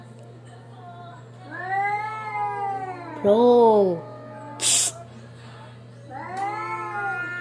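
Cats meow and caterwaul in drawn-out, rising and falling calls, loud and close, with a sharp hiss or burst in the middle and a brief spoken word.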